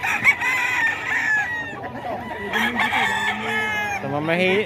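A crowd of chickens and roosters fills a market with overlapping crowing and clucking, loud and close, with several birds calling at once throughout.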